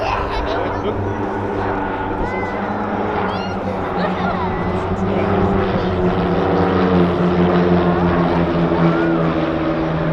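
Several propeller aircraft fly as a formation at the RAF Cosford airshow, giving a steady, loud droning engine roar that holds for the whole stretch while a commentator talks over it.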